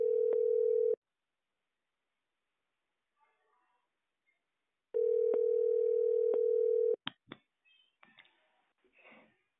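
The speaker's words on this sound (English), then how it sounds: "let's call the number." A telephone sounds a steady, loud calling tone in two long bursts with a silent gap between, followed by brief faint clicks and scattered small noises.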